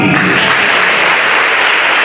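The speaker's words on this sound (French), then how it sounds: "1 minute d'applaudissement très très fort," A large crowd at a ceremony on its feet for a standing ovation, clapping loudly and steadily in a dense, continuous roar of applause with no pauses.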